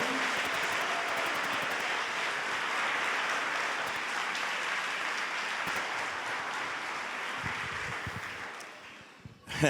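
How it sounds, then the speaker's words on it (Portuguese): Church congregation applauds in a continuous, dense wash of clapping that holds for most of the stretch before fading out near the end. "aplaudam ao Senhor"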